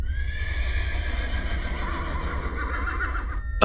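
A horse gives a loud, close, drawn-out whinny lasting several seconds over a low rumbling background, with faint hoof clip-clops and no talking.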